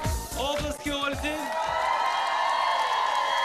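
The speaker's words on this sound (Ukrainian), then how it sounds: "Оплески Ользі." A crowd at an outdoor karaoke show on the Maidan bursts into sustained, loud applause and cheering right after a song ends, with a voice briefly audible at the start.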